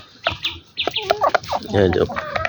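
A hill-country desi hen clucks repeatedly up close in a hilly farmyard, loud bursts of clucking with chirps from other birds nearby.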